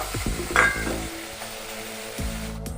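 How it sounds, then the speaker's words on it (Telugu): Fresh raw coconut pieces fry in a pan for tamarind chutney, a soft continuous sizzle broken by a couple of clinks and scrapes of a spoon stirring, with no voices. "పచ్చి కొబ్బరి ముక్కలు కూడా మంచిగా వేగాలి ఇందులో"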